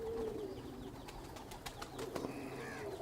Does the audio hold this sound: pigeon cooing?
yes